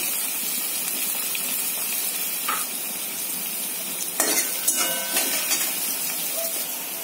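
Onion frying in a pan for cabbage bhaji, a continuous hissing sizzle with a few stirring clinks and scrapes, close and steady without talk.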